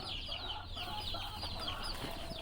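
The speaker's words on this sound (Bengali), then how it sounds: "এবার কুটির ভিতরে মনে হয় ডিম পাড়ি দিবি, যে কুঁ কুঁ কুঁ কুঁ করতেছে" Free-range farm hen clucking steadily close by, a repeated low murmuring cluck with other poultry faintly in the background and no talking.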